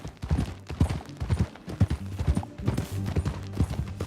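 Horse hooves clip-clop in a quick, uneven rhythm in Red Dead Redemption 2, close and fairly quiet, with faint gear and movement sounds underneath.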